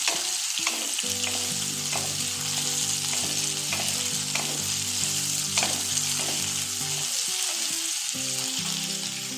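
Capsicum sautés in a pan for hotel-style chilli chicken, a loud continuous sizzle marked by regular spatula taps and scrapes, with background music playing throughout.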